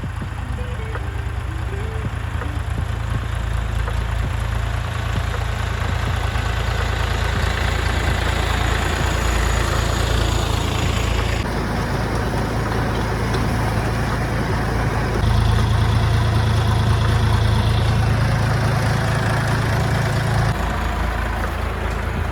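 The engine of a small DTZ 5354 tractor hitched to a potato digger idles steadily up close, a loud low rumble that holds through the whole stretch with slight shifts in pitch and no talk.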